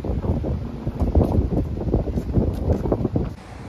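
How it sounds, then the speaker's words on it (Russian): Strong wind gusting outdoors in Vladivostok, near the bay, buffeting the microphone in a steady loud rumble that swells and eases over a few seconds and drops off at the end. "Ветрище."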